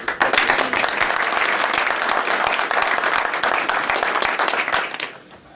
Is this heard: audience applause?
yes